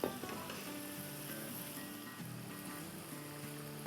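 Potatoes frying in a pan as they are stirred, a soft steady sizzle with faint scraping and light clinks, gentle and continuous throughout.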